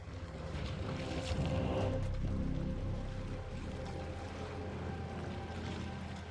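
Motorboats and water buses churn along a Venice canal, a steady engine drone mixed with washing water and wind buffeting the microphone, fairly close and continuous without voices.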